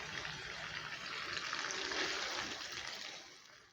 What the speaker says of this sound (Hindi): 2 मिनट भूनने के बाद 2 से 3 खाने के चम्मच सिर्फ पानी के डालेंगे